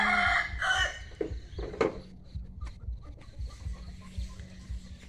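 Chickens cluck and a rooster crows nearby, several calls in the first two seconds, followed by quieter clucking over a low background hum.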